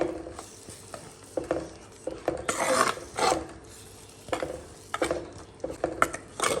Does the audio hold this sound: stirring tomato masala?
yes